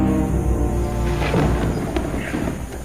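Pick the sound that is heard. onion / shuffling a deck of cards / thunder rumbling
thunder rumbling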